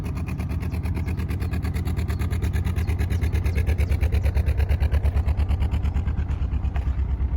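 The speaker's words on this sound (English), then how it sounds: "My boat engine is very quiet." A quiet narrowboat engine idles close by in a steady, even chug with a fast regular pulse, running alone without voices throughout.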